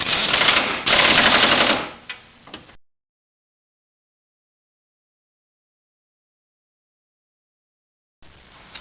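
Impact or power driver tightening bolts around the perimeter of a Ford Focus engine motor mount: two loud rattling bursts, then a few shorter ones, followed by silence and another brief burst at the end.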